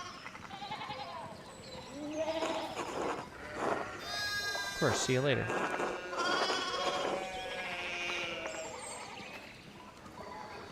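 Sheep bleating in the video game Pentiment, several wavering bleats rising over and between spoken dialogue and background game sound.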